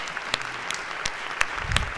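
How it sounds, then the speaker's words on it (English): A round of applause fills a legislative House chamber, steady clapping from a crowd with a few sharper individual claps standing out, moderately distant and without talk over it. "If you could give them a wonderful round of applause."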